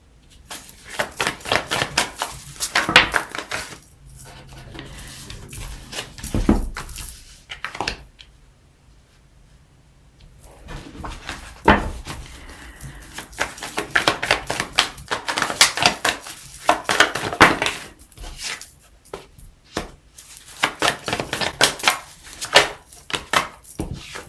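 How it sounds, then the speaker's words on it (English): Tarot cards being shuffled over and over, rapid riffling and tapping bursts with brief pauses between rounds, close and fairly loud. "I shuffle till one card falls out."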